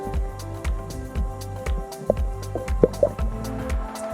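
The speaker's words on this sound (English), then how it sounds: "I'm just filling it up here with some water and sediments so we can test the filter properly." Water mixed with sediment is poured into a plastic container to test a Katadyn Pocket water filter, producing a run of wet drips and splashes with small squishy bursts near the middle.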